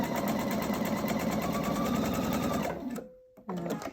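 A sewing machine stitches a quilt block along a drawn line, running in a steady, close, fast whir for nearly three seconds, then slowing to a stop before a brief restart.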